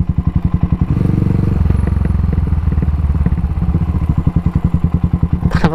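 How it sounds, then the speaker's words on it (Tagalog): A Cafe 400 motorcycle engine with about 2,600 on the odometer runs close by with a loud, steady chain of hard popping backfires and thumping exhaust pulses, like a jackhammer. "narinig yung yung backfire niya. Lakas, no?"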